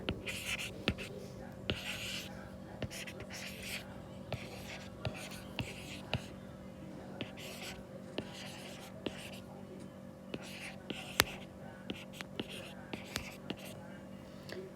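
A pen writes by hand on paper in soft, repeated scratching strokes with light taps, quiet and close, while a voice speaks softly underneath.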